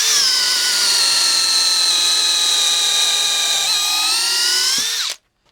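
DeWalt cordless power tool running on a 5Ah battery, a loud steady high-pitched motor whine held for about five seconds before cutting off abruptly.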